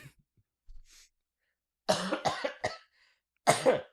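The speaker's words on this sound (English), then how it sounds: "my idiot roommate continues to cough with his endless pneumonia" A man with pneumonia coughs several times close up, a harsh cluster of coughs, a pause, then another pair of coughs.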